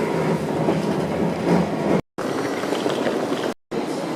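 A train rumbles steadily at Rotterdam Central station with a broad rail roar, briefly cutting out twice; no voices.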